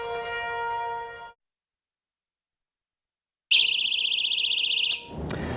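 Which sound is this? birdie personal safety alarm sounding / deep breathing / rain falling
birdie personal safety alarm sounding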